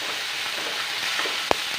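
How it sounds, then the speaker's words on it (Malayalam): Crushed green chilli, ginger and shallots stirred in a hot pan while making paal kappa, giving a steady soft sizzle with one sharp scrape or clink of the spoon near the end. "ഇത് നന്നായിട്ടൊന്ന് മിക്സ് ചെയ്ത് കൊടുക്കുക"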